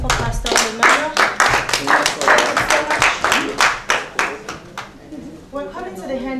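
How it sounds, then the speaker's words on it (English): An audience applauds a pastor at a church foundation programme, with dense clapping for about five seconds that fades out as voices carry on talking at the end. "A big round of applause again for Pastor Emmanuel."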